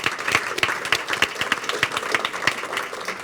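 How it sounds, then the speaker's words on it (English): An audience at a chamber of commerce post-legislative session forum applauds, a dense steady round of clapping from a roomful of people. "If we could just give one more round of applause to the Tri-County Council for the Lower Eastern Shore"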